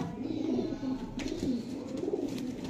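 A domestic pigeon coos softly with low, rolling calls repeated several times in a steady rhythm, faint and close, in a pigeon selection setting in Gujranwala.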